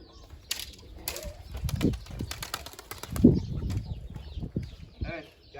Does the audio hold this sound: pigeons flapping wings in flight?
yes